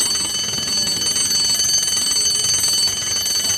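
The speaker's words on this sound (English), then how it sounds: "Suddenly, she heard the bell." A bell rings continuously and steadily, with a bright metallic shimmer over faint background noise, heard alone throughout.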